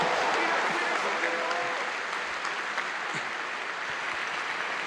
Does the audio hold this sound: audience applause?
yes